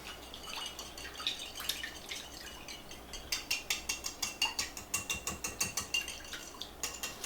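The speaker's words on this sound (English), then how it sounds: "I think we're going to use 3 eggs and mix that in there to make our dip for the bread." Eggs being whisked in a bowl for a French toast dip, heard close up as rapid, rhythmic clinking and tapping that quickens and grows more regular in the second half, with no talking.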